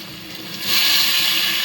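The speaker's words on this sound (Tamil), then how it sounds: "தேவையான அளவுக்கு தண்ணி ஊற்றிக்கலாம்." Water pours into a cooking pot for a double beans biryani, a short hissing stream that rises sharply partway through and then cuts off abruptly.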